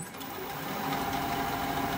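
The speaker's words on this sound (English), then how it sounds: "Now I'm going to use this diamond point tool that I just sharpened on my belt sander to straighten up the sides of the" A freshly sharpened diamond point tool cuts the sides of a wood tenon on a turning lathe, a steady close buzzing, chattering scrape that swells slightly over two seconds.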